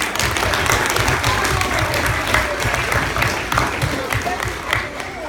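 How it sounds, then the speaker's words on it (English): Audience applause at a school science show on sound and colour, a dense, steady wash of many hands clapping that stays loud and even throughout. "Round of applause, Mr. Brooks!"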